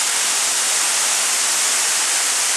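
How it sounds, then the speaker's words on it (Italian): A waterfall at the seven waterfalls of La Falda, Argentina gives off a loud, unbroken rushing hiss, steady from start to finish with no voices. "Ma la cosa più bella di queste sette cascate è la parte inferiore"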